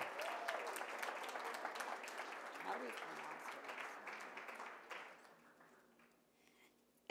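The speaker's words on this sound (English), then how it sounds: "Round of applause for James Monroe High School." Applause from a school ceremony crowd for James Monroe High School, a dense steady clapping that fades out over several seconds.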